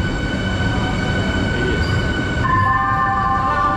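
A Vande Bharat Express train gives a steady, loud rumble with a broad rushing noise. Thin whining tones hold throughout and sharpen after a few seconds, with no voices.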